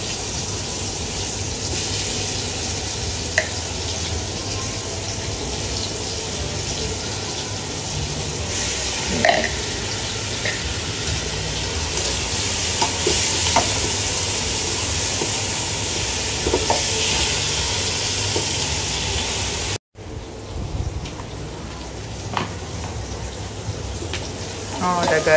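Garlic and ginger frying in a pan, a steady loud hiss of hot oil that runs on for a long stretch with faint stirring scrapes, briefly cut off near the end before resuming.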